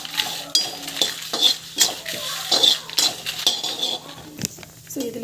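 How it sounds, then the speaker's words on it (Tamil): Curry leaves and dried red chillies sautéed in a pan, with a spatula stirring and clinking against the metal in quick, uneven strokes over a soft background sizzle, close and fairly loud with no talking. "கருவேப்பிலை வந்து பார்த்திங்கன்னா காஞ்ச மிளகாய் ரெண்டுத்தையும் போட்டுட்டு நல்லா வந்து வதக்கிக்கோங்க"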